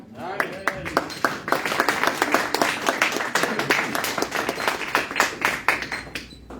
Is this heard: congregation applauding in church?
yes